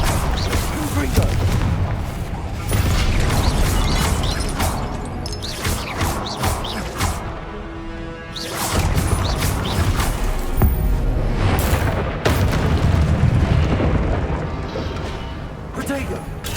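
Spell-casting combat in a Hogwarts video game erupts in booming blasts and crashes, dense loud explosions with whooshes layered over continuous game noise and voices.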